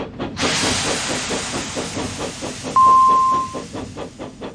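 A steam train engine releases a loud sudden hiss of steam that carries on as a rhythmic chuffing with regular puffs, joined midway by a short steady whistle tone.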